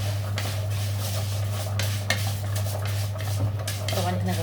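Rice goes into a pot of frying vermicelli and gets stirred, with scraping and clinking of a utensil against the pot, light sizzling, and a steady low hum underneath.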